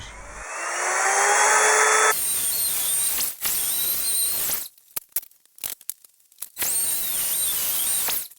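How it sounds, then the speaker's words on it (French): A power router whines at high pitch while cutting a chamfer in a wooden board, running in long loud bursts with short gaps and a few sharp ticks between passes. "et de terminer le chanfrein à la défonceuse"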